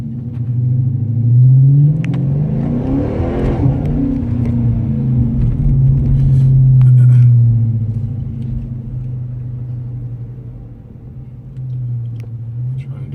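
A car sits idling at a traffic light, then pulls away and accelerates, its engine rumble rising and falling steadily up close for several seconds before settling back to a low drone.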